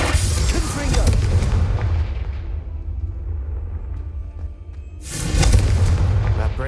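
Incendio fire spell cast in the video game Hogwarts Legacy, a loud booming, rumbling burst that fades into a quieter stretch before a second forceful surge near the end.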